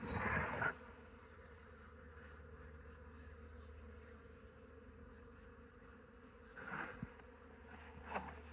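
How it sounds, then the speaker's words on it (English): Honey bees buzzing around the top of a beehive outdoors, a faint steady hum with a few louder passes as bees fly close to the listener. "What's up with these bees on top?"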